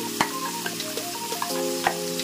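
Paneer and masala fry together in a pan with a continuous loud sizzle, broken by a few sharp spits and pops, under a faint steady hum.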